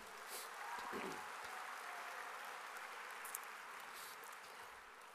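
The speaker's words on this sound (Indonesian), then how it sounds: "Boleh tepuk tangan buat Kolese Canisius." Audience applause at Kolese Kanisius during a speech, a soft, fairly distant patter of many hands that stays steady and low throughout, with faint background noise.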